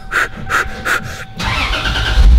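A car that would not start, just repaired, cranks in three close, rhythmic bursts, then catches and settles into a loud, steady idle.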